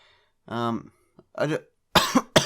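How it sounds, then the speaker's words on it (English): Several raspy coughs: one drawn-out, throaty bark, then a short hack, followed by two sharp, forceful coughs close to the microphone, with brief pauses between. "It sounds like an absolute fake cough, but it's not."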